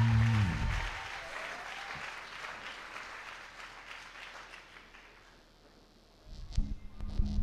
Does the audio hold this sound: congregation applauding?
yes